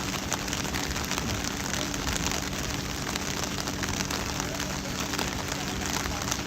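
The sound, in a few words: heavy rain falling on a cricket match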